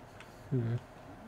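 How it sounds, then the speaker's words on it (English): Cow in the Fallout 4 video game giving one short low moo, faint and brief against quiet game ambience, no talk. "Stop mooing, cow."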